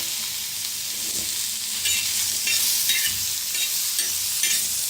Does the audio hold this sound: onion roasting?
yes